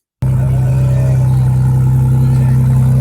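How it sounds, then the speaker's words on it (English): The exhaust of a 2022 Ford Bronco Raptor starts abruptly and settles into a loud, steady idle, a deep droning rumble with an even low throb, close up and with no talking. "All right, then the exhaust. So you have to hear this."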